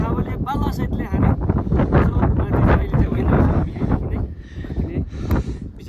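Strong wind buffeting a microphone on a mountain ridge near Lo Manthang in Nepal, a continuous loud roar with gusting rumble throughout.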